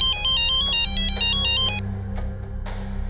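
An electronic phone ringtone plays loudly and close, a repeating stepped melodic pattern that cuts off partway through, leaving low background hum and a few soft knocks.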